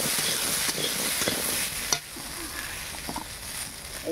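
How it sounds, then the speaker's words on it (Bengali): Bitter gourd leaf curry with pumpkin and yardlong beans being stirred in a pan, a close steady sizzle with a few spatula scrapes, the frying softening slightly after a clack about halfway through, with no speech. "নাড়তে থাকি।"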